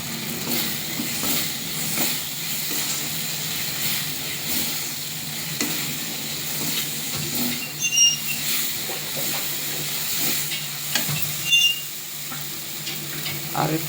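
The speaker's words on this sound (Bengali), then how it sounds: "মশলাটা আমি কষছি। মশলা থেকে অলরেডি তেল ছাড়তে শুরু করে দিয়েছে," Masala spice paste frying in oil while it is stirred down for a curry: a steady close sizzle with occasional scraping stirs and small pops, no voices.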